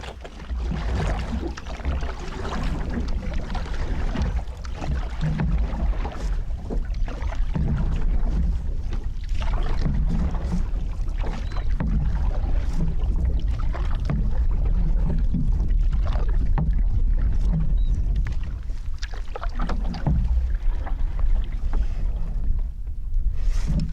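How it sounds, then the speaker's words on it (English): Paddling a canoe or kayak across a back-country lake with a light breeze, giving soft repeated splashes and water swishes over steady wind rumble close to the microphone. "So I'm paddling across the lake."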